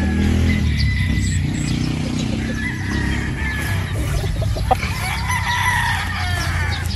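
A Boston Black broodstag rooster crows over steady farmyard background noise, its call rising clearly above a constant low rumble.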